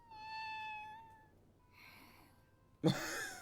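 A cartoon cat in a Frieren: Beyond Journey's End anime episode gives a drawn-out, wavering meow, then a sudden sharp, loud hiss near the end.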